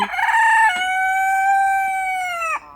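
A young rooster crows close by, a single loud, drawn-out call with a short rough start, a long sustained tone and an abrupt break at the end.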